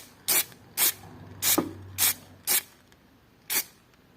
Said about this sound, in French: On secoue la bombe. Et on pulvérise, voir ce que ça donne.